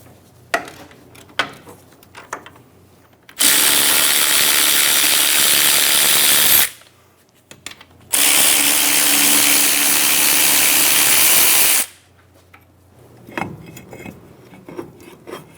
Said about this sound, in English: Using an 18mm socket, remove the 2 caliper bracket bolts.